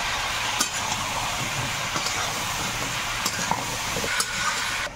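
Taro and potato pieces fry in a spice mix of cumin and coriander powder, giving a steady close sizzle with occasional scraping stir clicks and no talking.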